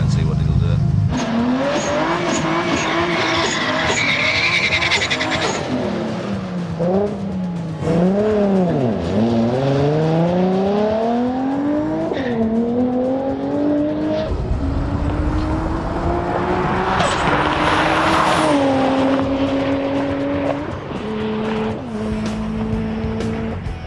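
A Toyota Supra street car on a high-boost run revs hard through rising and falling engine notes with gear changes and a squeal of tires. It is loud and close, with a voice talking over it at times.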